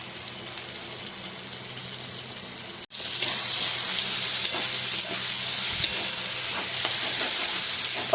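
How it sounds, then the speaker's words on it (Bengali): Fish oil fries and sizzles in a pan with chilli powder and turmeric, a steady broadband hiss running throughout with a brief dropout before it surges back louder and holds. "এটাকে একটু ভালো করে ভাজা ভাজা করব।"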